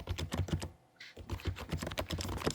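Rapid keystrokes on a silent wireless keyboard with RGB backlighting, heard close up with the microphone set on the keyboard; soft, muted clicks in a steady run with a brief pause near the middle.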